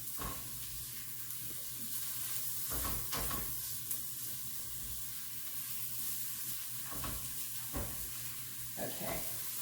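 Bacon and Brussels sprouts frying in a pan, giving a steady close sizzle and hiss with occasional louder stirring scrapes cutting through.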